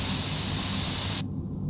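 DW400 cleaner sprays onto an off-road vehicle in a mechanic simulator game, one loud, close, sustained hiss that cuts off sharply, followed by a brief fainter puff.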